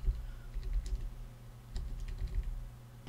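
Typing on a computer keyboard while setting up Google Assistant on a Raspberry Pi: quiet, close key clicks in short irregular bursts with a brief pause midway, over low background hum.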